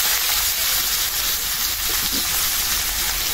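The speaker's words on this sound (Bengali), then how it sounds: "এখন আমি পেঁয়াজ দিয়ে দিলাম" Onion sizzles in hot oil with bay leaf, cumin and dried red chili, giving a steady, dense frying hiss that stays even throughout without talk.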